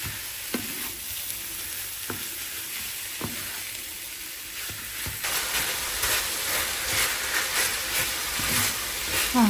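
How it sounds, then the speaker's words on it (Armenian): Minced meat fries in a pan with a continuous sizzle, punctuated by several distinct scraping knocks of stirring early on, then the hiss grows louder and fuller as the meat is mixed. "Այստեղ արդեն ավելացրել եմ աղացած միսը և լավ խառնում եմ։"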